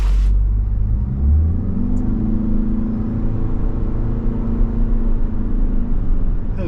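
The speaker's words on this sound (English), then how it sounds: "As we take off, a little engine noise getting it up to speed" A 2024 Toyota RAV4 XSE Prime plug-in hybrid pulls away and gathers speed, its engine rising into a steady mid-pitched drone over road rumble, heard loudly from inside the cabin.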